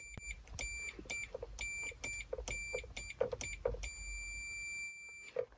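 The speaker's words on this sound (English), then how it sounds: "you'll hear the continuity meter start beeping" A continuity meter beeps in a rapid, uneven series of short tones, with one longer sustained beep near the end, as two horn-switch contact panels in a car's steering wheel are pushed together repeatedly. Soft handling knocks accompany the beeps.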